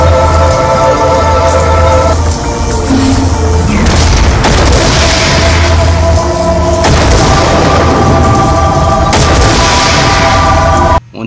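Lightning Staff firing in Black Ops II Zombies on the Origins map, loud repeated booming electric blasts over a constant game ambience, with bursts roughly every couple of seconds and no talk.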